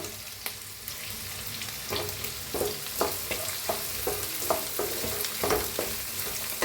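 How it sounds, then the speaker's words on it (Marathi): Onion and carrot stir-fry in a pan with curry leaves and peanuts, a steady sizzle broken by repeated scraping strokes of a spoon at a quick, regular pace, close and clear with no voices. "कांदा हलवून भाजून घेऊया। टाकूया गाजर,"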